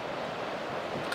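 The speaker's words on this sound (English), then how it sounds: "As you can see, some big waves here." Big ocean waves roll onto Broulee Beach in Australia, giving a steady broadband wash of surf, mixed with wind rumble against the microphone, with no voices.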